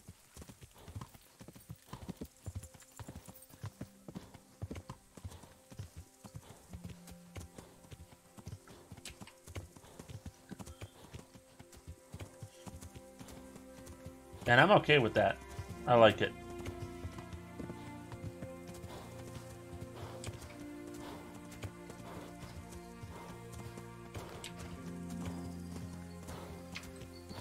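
Horse hooves clip-clop in the Kingdom Come video game, a steady rhythmic stream of close footfalls with a brief louder burst midway, a faint rain-like hiss behind, and someone talking over it.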